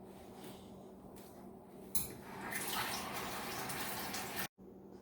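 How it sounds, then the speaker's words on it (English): Water pours steadily from a container into a bowl of oregano mint leaves, a continuous rushing splash that swells midway, then cuts off briefly before resuming near the end. "I'm going to put in 3 cups of water."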